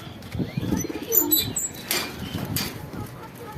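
Soft pigeon coos mixed with rustling and a flutter of wings nearby, with distant voices faintly in the background.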